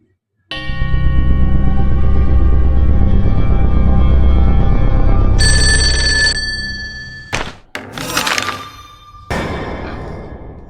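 An indoor telephone rings loudly and steadily for several seconds, then a bright electronic tone sounds, followed by a few clunks and brief handling noises as the call connects.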